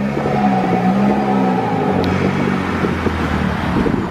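A car reverses slowly during a driving lesson, its engine a low, steady hum with a faint whir. The note drops gently as it rolls back, close and moderately loud, with no talking.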